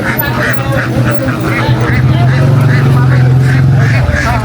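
Ducks quack nearby at a market under loud, continuous talking and a low steady engine-like hum, the calls coming in short repeated bursts.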